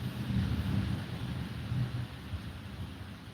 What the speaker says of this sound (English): You guys are hearing a thunderstorm